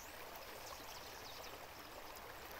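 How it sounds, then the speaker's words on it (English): A small clear-water river flows steadily in a rural setting near a tea plantation, a faint, even rushing babble with no voices. "has this small river that I usually cross and it has very clean water"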